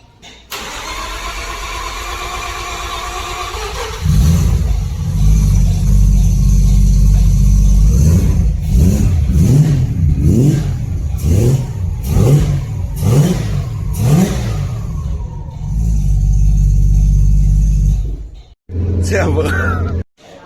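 A turbocharged three-rotor Mazda FD RX-7 starts with a loud low rumble, then blips its throttle in a rapid series of sharp revs and settles into a deep idle before briefly cutting out and catching again.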